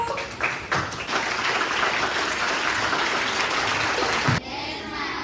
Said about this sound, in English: Do clapping for all of you